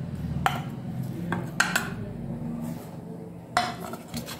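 A spoon clinks against a bowl while ground spices, roasted powder, asafoetida, black salt, red chilli and black pepper are mixed, with a few sharp scrapes and taps spaced over a soft, continuous stirring rustle.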